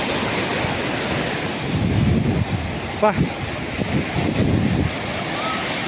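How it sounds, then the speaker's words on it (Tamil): Strong wind buffets the microphone while ocean surf rolls and crashes at a beach, a continuous roar with someone speaking briefly over it. "காற்று பயங்கரமாக அடிக்குது"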